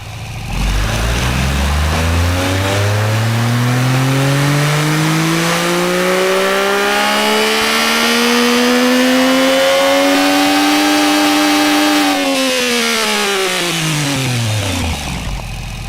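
A single engine in a car-building video game revs hard and loud, its pitch sweeping steadily upward for about ten seconds, then dropping sharply back down near the end, with no voices.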